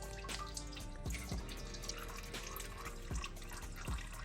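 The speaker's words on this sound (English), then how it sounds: "take off the oil filter, which I never put tight" Engine oil drains from a removed oil filter on a built WRX wagon, a steady trickling stream with soft drips throughout, close and continuous with no talking.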